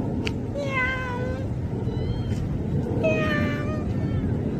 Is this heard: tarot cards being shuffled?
no